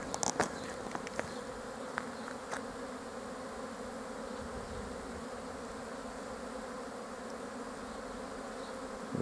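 Honeybees buzz around hives at an apiary in late March, a steady close drone of many insects, with a few faint knocks near the start and no speech.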